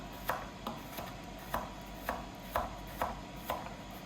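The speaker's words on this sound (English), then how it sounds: "my cucumbers and my tomatoes and also the beetroot now. So just slice them, nothing too fancy" A knife slices cucumbers, tomatoes and beetroot for a spicy vegan salad, sounding as regular crisp taps on a cutting board about every half second, close and clear with no talking.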